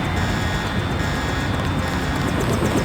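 Helicopter in the PC game Deus Ex: a loud, continuous droning engine roar with a steady whine, even and unbroken throughout, with no talking over it.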